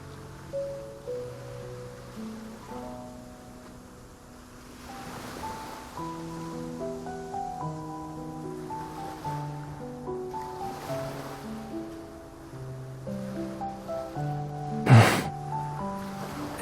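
Ocean waves washing on a beach in the video game Love and Deepspace, a soft, steady surf swell under a gentle melodic piano line, ending in a brief sharp splash.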